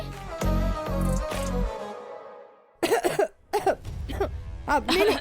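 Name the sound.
cough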